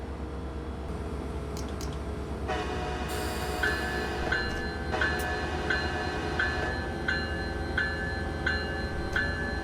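A passenger train pulls away from Bay Head station on the North Jersey Coast line in Train Simulator 2016: a steady low engine drone, with tonal alarm-like chimes and a rising whine pulsing regularly as it accelerates.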